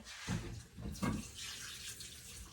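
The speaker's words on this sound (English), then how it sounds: "Why is my faucet leaking?" Water running from a leaking kitchen faucet into a sink, a soft, uneven splashing stream with a couple of brief stronger gushes, quiet and close.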